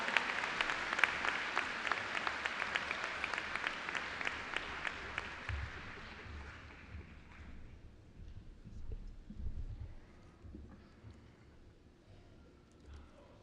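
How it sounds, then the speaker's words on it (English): Applause at the Ann Arbor Pioneer High School 2018 commencement ceremony, a large crowd clapping densely and loudly before tapering off into scattered claps and low rumbling room noise. "Let's have one more round of applause for this group."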